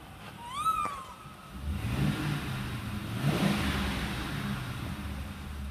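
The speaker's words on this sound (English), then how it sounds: "Let me get in here and give me a little rev." A car engine, already running near-silently, revs up in a couple of swells from a low idle, moderately close and alone, with a brief squeak near the start.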